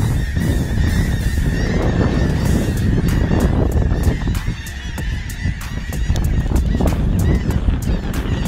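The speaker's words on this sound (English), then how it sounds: "Thousands of birds." Thousands of birds massed on a river sandbank in Trinidad, a loud, continuous chorus of honking and squawking calls layered over each other, with sharp individual cries standing out from the dense din.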